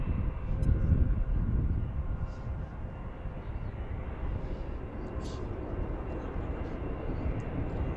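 Airliner departing DCA at Washington, heard from Gravelly Point: a loud broadband jet engine roar, strongest early and holding steady throughout, with a few faint voices and background noises.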